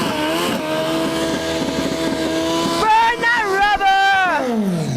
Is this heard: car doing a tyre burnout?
yes